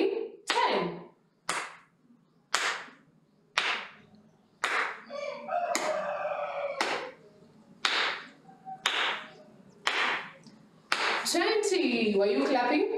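Sharp single hand claps land about once a second, ten in a row, each closely followed by a voice counting aloud, with a final burst of speech at the end.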